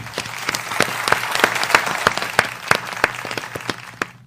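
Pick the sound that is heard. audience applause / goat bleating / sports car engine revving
audience applause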